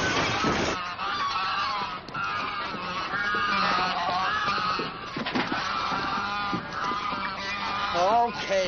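A flock of geese honking loudly and continuously, many overlapping nasal calls close by with no pause, alone.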